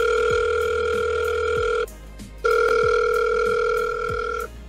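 Phone ringing during a call in the Roblox roleplay game Greenville, two long electronic ring tones separated by a short gap, loud and close with no talking.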